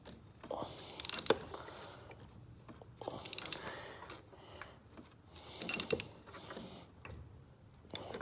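A ratchet wrench tightens a new spark plug on a 2009 Grand Cherokee 3.7, sounding as three separate short bursts of rapid clicking with quiet pauses between them.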